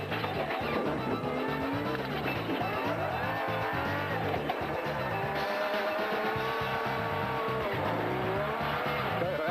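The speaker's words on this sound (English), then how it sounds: "listen to the Ranger's engine working overtime" A Ford Ranger rally truck races through loose sand at the Limpopo 400 off-road race, its engine loud and close, pitch rising and falling as it works hard, with scrabbling tire noise.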